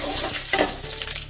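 Hot oil sizzles and crackles close up, with quick popping spatters from mustard seeds frying in a pan, no voices.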